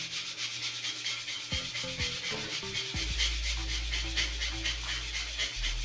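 A stiff brush scrubs a tile surface coated with Wometo tile cleaner in steady, rapid back-and-forth strokes, a continuous close rasping rub heard alone with a low background hum.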